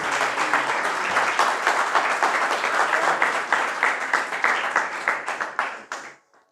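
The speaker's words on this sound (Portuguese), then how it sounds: "você pode aplaudir ao Senhor Jesus" Church congregation applauding during a service, steady dense clapping for several seconds that thins out and fades to silence at the end.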